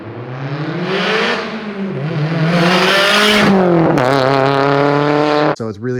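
A 413hp Subaru STI engine revs hard and accelerates, a loud, continuous rising and falling drone with climbing pitch sweeps and a shift near the end, close by with no talk over it.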